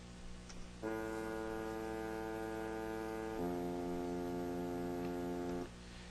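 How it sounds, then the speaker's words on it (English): A solo tuba holds two long, steady notes, the second pitched slightly lower, with no other instruments. "And now you're going to hear the tuba."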